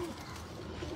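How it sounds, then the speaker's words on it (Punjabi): A pigeon coos softly and steadily for about a second, close by, among breeder pigeons kept by a fancier in Faisalabad; no one speaks over it. "ਇਹ ਕਿਹੜਾ ਕਬੂਤਰ ਹੈ"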